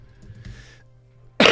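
A single sharp, loud cough bursts out close to the microphone at the end, after a stretch of quiet room hum and faint background noise.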